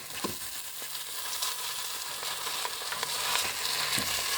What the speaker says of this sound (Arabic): هكذا نقلي اللحم ديالي